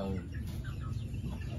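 Chickens cluck close by in a rural village yard in Tay Ninh, Vietnam, with several short overlapping calls over steady background noise and no talk.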